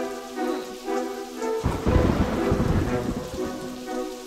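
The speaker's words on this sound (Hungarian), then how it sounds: "Vihar." A thunderstorm in an animated children's winter story: a sudden loud thunder crash breaks over steady heavy rain, then rumbles on beneath the downpour, with music-like tones running through.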